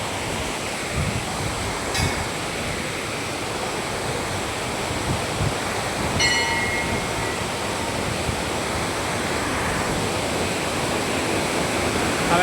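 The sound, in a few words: fast-flowing rushing water near temple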